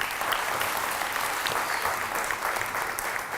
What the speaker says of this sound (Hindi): इनके लिए भी बहुत सारी तालियां होनी चाहिए